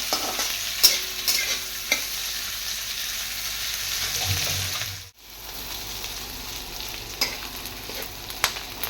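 Onion sautéing in a pan until golden for shahi paneer, with a steady close sizzle and occasional scrapes and taps of a stirring spoon, and one brief dip where the noise drops out.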